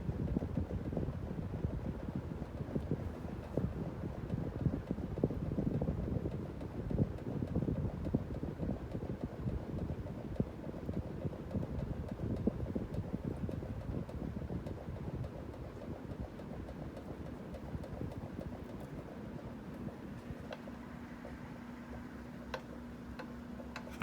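A Hunter Coastal Breeze 44-inch ceiling fan, a worn beater with tired blades, runs with a quiet, steady whoosh of moving air and a faint rhythmic ticking, low and continuous.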